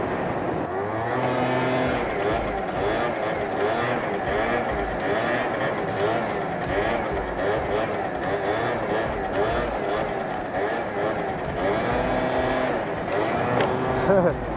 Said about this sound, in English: I gotta get my swag on with a mega dank super long wheelie here.